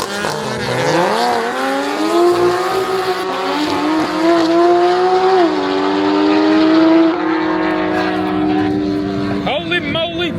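Car spinning donuts at a car meet, its engine revving high and tires squealing in a long continuous howl, loud and near, with people talking and shouting over it.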